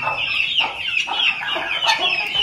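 A hen clucks repeatedly at close range, loud and steady, with several sharper squawking notes breaking through the run of clucks.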